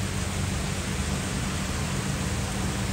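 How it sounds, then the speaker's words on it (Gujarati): Sudden downpour of monsoon rain falling outdoors near a festival pandal, a steady dense hiss that holds even and loud throughout with no voices. "અચાનક જે વરસાદે ચાલુ થયો છે"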